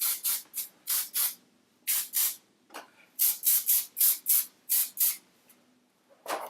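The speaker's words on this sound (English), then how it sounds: "I am going to take some hairspray and I'm just going to spray" Close, sharp hisses from an aerosol spray can come in quick bursts, about fifteen short sprays in an irregular rhythm with brief pauses between groups.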